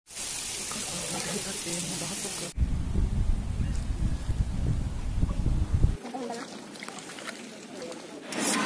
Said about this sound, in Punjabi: ਦੇਖੋ ਮੀਂਹ ਬੜਾ ਤੇਜ਼ ਹੋ ਗਿਆ